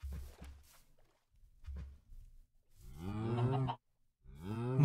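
Cows in a Stumble Guys video game let out two long, loud harmonic moos in the second half, following a few soft low thumps.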